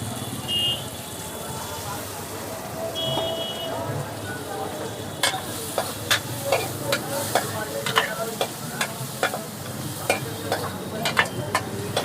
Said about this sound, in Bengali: টমেটো দেওয়া হচ্ছে কেটে।